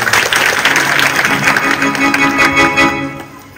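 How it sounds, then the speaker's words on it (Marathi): Audience at a devotional gathering claps loudly and steadily, a dense continuous applause close by that fades slightly near the end. "त्याकरता अजून एकदा जोरात त्यांना टाळी वाजवा."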